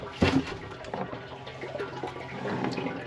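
Water runs into a KZ camper's holding tank, a continuous moderate rushing and gurgling flow that stays steady throughout, with an initial clunk at the start.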